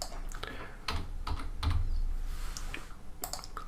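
Fingers tap on a computer keyboard in quick, irregular clusters of sharp clicks, close and clear, with no talking.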